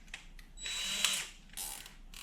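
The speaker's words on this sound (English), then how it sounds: "Shove them into the drill." Short bursts of a power drill whirring during balustrade installation, a longer run in the middle and a brief spin at the end, close by.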